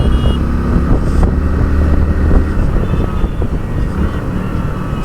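Hero Splendor Plus motorcycle being ridden, a steady broadband rush of engine hum and heavy wind noise that stays loud and continuous throughout.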